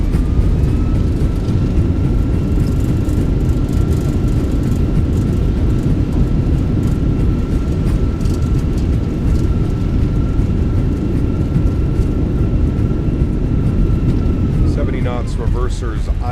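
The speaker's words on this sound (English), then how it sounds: "Retard. Drive. Nose down gently. Reversers are out." Airbus A320 thrust reversers roaring during landing rollout in a flight simulator, a loud steady broadband rumble with a faint whine that holds for about fifteen seconds, then winds down near the end.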